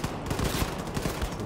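Pistol fire rings out in the shooter Wolfenstein 2: The New Colossus. A dense, loud stretch of rapid shots with booming low impacts layers over constant battle noise and leaves no quiet gaps.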